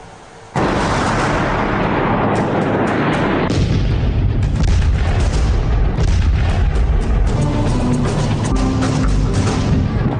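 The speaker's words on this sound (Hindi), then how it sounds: "इसे कहते हैं कारपेट बॉम्बिंग, यानी एक बार में टनों बम गिराकर एक बड़े दायरे को पूरी तरह तबाह कर देना।" Carpet bombing by a B-2 bomber, with a sudden loud blast followed by continuous heavy rumbling explosions that fill the whole span without letup.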